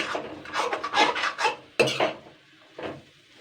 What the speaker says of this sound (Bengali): এটা দিয়ে একটু ভালো করে আগে নাড়াচাড়া করে নেবো।